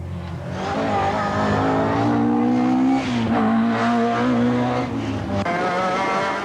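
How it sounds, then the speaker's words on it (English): Rally cars race through a stage of the Tour of Mull in 1992, one a Vauxhall Nova 1600, engines revving hard and loud with shifting pitch as they pass close, tires briefly squealing. "Robin Hamilton, car 17, is about to catch Jeff Wright's Nova 1600."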